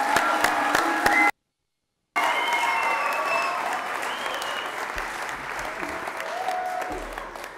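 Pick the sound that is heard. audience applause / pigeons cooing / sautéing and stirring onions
audience applause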